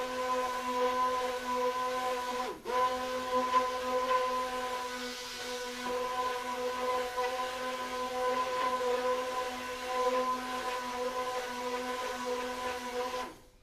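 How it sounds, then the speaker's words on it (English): Stick blender whirs steadily while emulsifying lye water and oils for cold process soap with lavender, a sustained motor hum with one brief dip early on, close and continuous until it cuts off at the end. "And then I'll take the stick blender to it"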